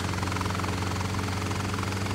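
A helicopter engine in the Flight Simulator X game drones steadily throughout, with a loud, continuous low rotor thrum and a dense whine across the range. No voice is heard.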